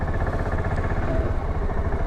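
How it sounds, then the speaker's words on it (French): The Voge 650 DSX motorcycle engine runs close by with a steady, rumbling mechanical throb and a faint clatter, continuous through the short stretch. "Un moteur assez bruyant."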